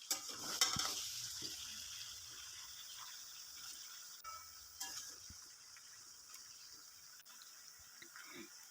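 Tomatoes, ginger paste and ginger leaves frying in a pan for a vegetable chorchori, with a soft steady sizzle and occasional scraping stirs close by, no talking.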